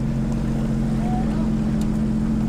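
A speedboat powered by two 300 hp V8 engines drones with a loud, steady low rumble and constant hum, close by and unbroken throughout.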